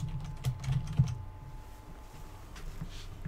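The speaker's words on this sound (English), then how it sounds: "you type the two words that you see" Typing on a computer keyboard: a quick cluster of soft key taps in the first second, then a few faint scattered clicks, near and quiet with no talk.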